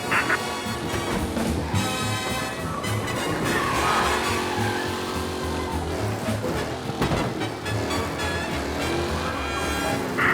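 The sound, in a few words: race car engine driving, from video game Mafia Definitive Edition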